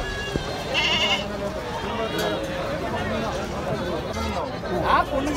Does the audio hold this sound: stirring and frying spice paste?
no